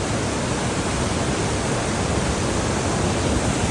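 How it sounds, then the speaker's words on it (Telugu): Heavy water flow at the Korutla mini tank bund, a steady, loud, broadband rush like a waterfall pouring continuously without pause, close by and filling the whole span alone. "చూసుకోవచ్చు ఎంత హెవీ ఫ్లో ఉందో"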